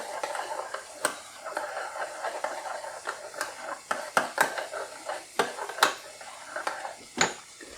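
Egg yolk being mixed into mac and cottage cheese in a bowl, a steady run of soft scraping stirs with sharp utensil clicks and taps against the dish, close and fairly quiet, with no talk.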